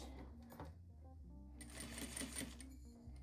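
A sewing machine stitches a zippered pouch at a reduced stitch length, running in short close bursts with a brief backstitch pause, its motor whirring and needle clattering rapidly.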